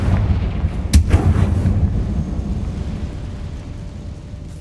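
The Confringo fire spell from Hogwarts Legacy bursts in a loud, close explosion, followed by a deep rumbling roar that slowly fades away.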